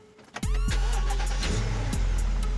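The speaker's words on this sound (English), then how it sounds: "car starts up really good" A BMW 750i rebuild car with transmission problems cranks briefly, then catches and settles into a steady, smooth idle, close and loud with no talking.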